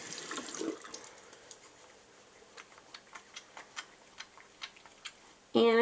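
A bar of soap is wetted under running water, giving a soft splashing wash followed by a string of small, regular, faint ticking drips, then an abrupt louder sound at the very end.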